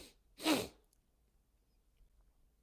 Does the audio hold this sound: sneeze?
yes